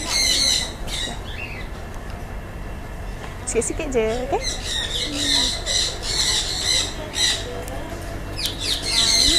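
Parrots in a bird aviary at an animal garden give loud, harsh squawks in repeated bursts, with a person talking over the calls.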